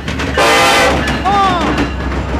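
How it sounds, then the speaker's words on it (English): Norfolk Southern southbound intermodal freight train passing on the Sandusky line in Marion, Ohio, loud and close, with a long horn blast followed by a second bending horn note over a constant rumble of the train. "A Norfolk Southern southbound on the Norfolk Southern Sandusky line."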